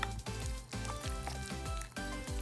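Pesto sauce being stirred in a hot pan, with a steady sizzle and repeated scraping strokes of a utensil, close and fairly loud, no talking.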